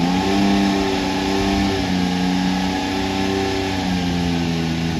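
A 2022 Can-Am Maverick X3 XRS side-by-side with a newly installed ECM, engine running loud and close with steady harmonic drone and slight pitch shifts as it revs, no voices.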